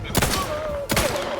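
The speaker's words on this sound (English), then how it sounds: "There's a sniper up top." Sniper gunfire in The Outer Worlds 2, two loud sharp shots about three-quarters of a second apart, each with a ringing tail.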